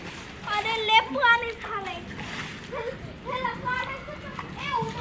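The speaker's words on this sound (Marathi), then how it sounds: "पोरं खेळत आहेत पाण्यामध्ये" Children splash and play in pooled rainwater on a flooded terrace, with repeated splashes and excited young voices calling out over steady water noise.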